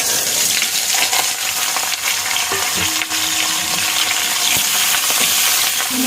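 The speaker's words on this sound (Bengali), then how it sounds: "আলুটা একটুখানি ভালো করে ভেজে নিতে হবে" Loud, steady sizzling of potatoes and flat beans with dried red chillies frying in hot oil, with occasional stirring clinks and scrapes, close up and continuous.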